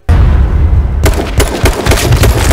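Gunfire in a first-person shooter game during a headshot, a loud close blast followed by a burst of rapid repeated shots with booming low end, no speech.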